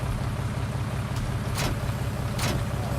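A tractor engine in the video game Farming Simulator 2019 hums in a steady, low drone, with a couple of faint higher whooshes passing over it.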